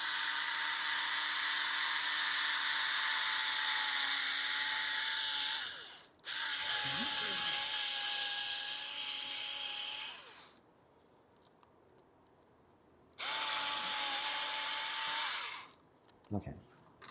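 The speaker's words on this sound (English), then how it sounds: "We're going to use one of these self-tapping machine screws to see if we can basically run it through the oil filter." Power driver spinning a self-tapping machine screw into the oil filter of a 2020 KTM 390 Adventure, a loud whining buzz in three bursts separated by short gaps and a near-silent stretch.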